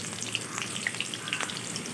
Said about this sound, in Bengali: এই আলুটা প্রথমে আমি তেলে ভেজে নেব।